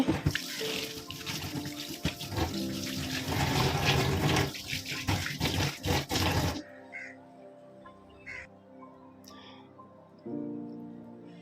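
Tap water running hard while the sink area is cleaned after washing dishes, a loud continuous rush that cuts off abruptly, leaving quieter surroundings where a crow caws in the distance.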